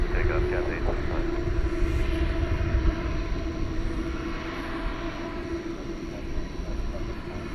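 A jet airliner rolling for takeoff on a runway at DFW Airport at night, a loud continuous engine roar with a deep low rumble that holds steady throughout, while radio chatter is heard over it.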